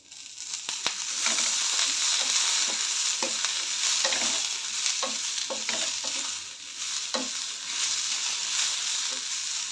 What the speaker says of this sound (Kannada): ಇದಕ್ಕೆ ಸ್ವಲ್ಪ ಆಯಿಲ್ ಹಾಕಿ ಉರಿತೆ ನಾನು ಆಯಿಲ್ ಹಾಕೋದ್ರಿಂದ ಜಲ್ದಿ ಉರುತ್ತೆ ಅವು